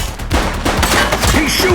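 Rapid bursts of gunfire in The Precinct video game crackle loudly in a dense volley, shots overlapping with a brief lull early on.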